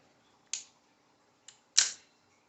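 The bail of an Oiiaee 5000 spinning fishing reel snaps over in three crisp, close metallic clicks, two sharp and one faint between them, against near silence.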